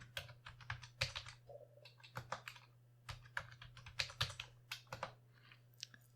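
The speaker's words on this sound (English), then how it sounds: "And we type in a new password." Computer keyboard keys tapped in quick irregular clusters with short pauses while a new password is entered, close and quiet over a low steady hum.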